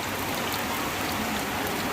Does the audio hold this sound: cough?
no